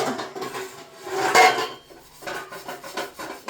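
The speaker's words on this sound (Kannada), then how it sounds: "ಅಮ್ಮಂಗೆ ನೀನು ಪಾತ್ರೆ ತೊಳ್ಕೊಡ್ತಾ ಇರೋದು" Dishes and cutlery clink and clatter intermittently, with a louder burst of metal and ceramic knocking midway, like pots and plates being handled at a sink.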